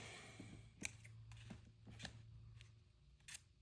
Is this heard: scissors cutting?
yes